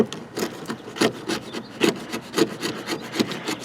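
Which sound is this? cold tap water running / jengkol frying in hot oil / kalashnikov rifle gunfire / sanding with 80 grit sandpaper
sanding with 80 grit sandpaper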